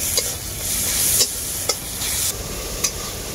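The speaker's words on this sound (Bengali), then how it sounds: "গুঁড়ো মশলাটাকে আমি খুব ভালো করে ভেজে নেব" Ground spices (cumin, turmeric, dry chili powder) frying in oil with onion and tomato for a tilapia curry, a steady close sizzle with a few sharp stirring scrapes of the spatula against the pan.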